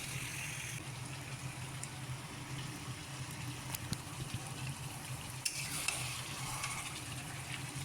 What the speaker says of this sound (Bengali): এবার আমি মাংসটাকে ভালো করে কষিয়ে নিচ্ছি।